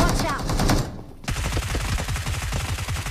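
Rapid automatic gunfire in the mobile battle-royale game BGMI (Battlegrounds Mobile India), with dense bursts of shots, a brief lull, then another sustained volley of fast, close, loud reports.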